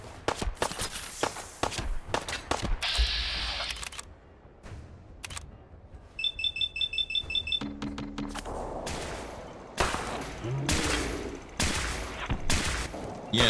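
Gunfire from weapons in the video game Fallout 4, with repeated sharp shots and bursts of varied loudness and rhythm, mixed with in-game effects and footsteps.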